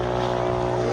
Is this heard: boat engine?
yes